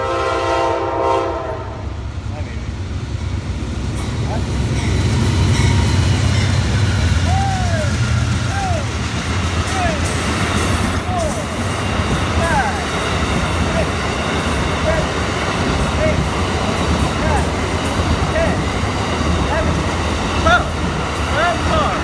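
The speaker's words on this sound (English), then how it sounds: "There it comes, Tri-Rail P621." A Tri-Rail commuter train passes Dania Beach station in South Florida: a horn blast opens, then a loud, sustained rumble with clattering wheels and squeals runs steadily close by, with a person talking over it.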